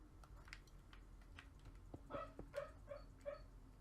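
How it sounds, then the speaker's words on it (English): A sleeping dog lets out soft whimpers while dreaming, a string of four or five faint, high, nasal yips in quick succession over low room noise and light tapping. "The dog is dreaming."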